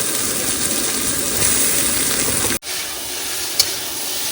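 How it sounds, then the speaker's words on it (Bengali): Marinated tiger prawns hiss and sizzle steadily in hot oil, a loud close frying crackle that cuts off abruptly partway, then resumes more softly with a small clink. "তেল গরম হয়েছে এবার দিয়ে দেবো মাখানো চিংড়ি মাছ"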